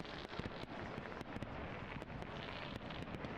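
Fireworks in the video game Mask of the Rose crackle and pop repeatedly over a constant hiss, sharp bursts scattered irregularly across a few seconds, fairly faint and without talk.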